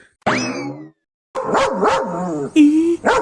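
A cartoon dog in an animated series barks in excited, bouncy bursts, up close, with a yip and some playful whining between barks; no talking.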